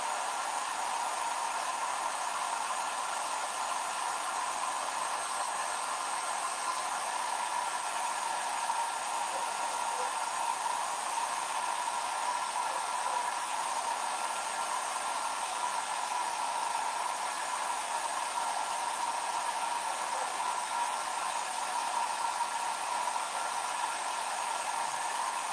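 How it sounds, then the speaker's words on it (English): A real blow dryer runs loud and steady for the whole stretch, a constant airy whoosh with a fixed motor whine and no voices over it. "I'm going to use the real blow dryer, so it's going to get loud just for a second"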